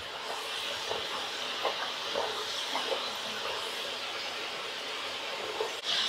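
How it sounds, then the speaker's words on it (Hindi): Raw potatoes frying in hot oil give a loud, continuous sizzling hiss with faint crackles and pops, steady and close throughout, with no voices. "थोड़ा सा और हम इसे फ्राई करेंगे"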